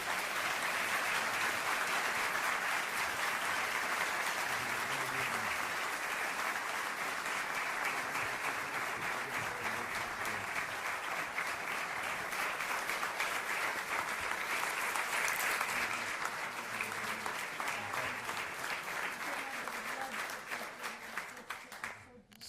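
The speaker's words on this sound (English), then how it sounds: "So it seems superfluous to say this after you've all just applauded so resoundingly" An audience at a public service award ceremony applauds loudly and steadily for about twenty seconds, a dense wash of many hands clapping that thins out and fades at the end.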